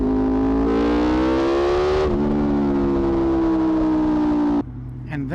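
A loud, deep engine rumble from a Honda VFR800X V4 motorcycle with a full-system exhaust holds a steady idle close by, its throaty exhaust tone shifting slightly before dropping off near the end.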